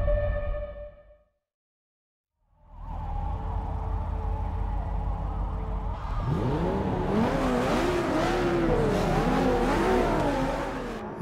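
A 2017 Ford GT's engine in Forza 6 on the streets of Rio de Janeiro, Brazil, idles with a low hum, drops briefly to silence, then revs up loudly, rising and falling in pitch as the car accelerates through gear changes.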